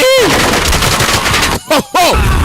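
Dense, loud gunfire from a dubbed action movie, rapid automatic bursts filling nearly the whole stretch with two brief gaps, accompanied by ricochet-like whistles and no clear talk.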